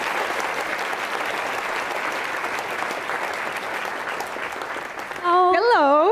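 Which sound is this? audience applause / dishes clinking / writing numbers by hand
audience applause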